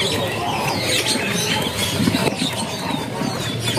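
Zebra finches, males and females kept in stock at the Pramuka bird market, call constantly. Dense, overlapping chirps and squawks carry on steadily at moderate volume, with no voices.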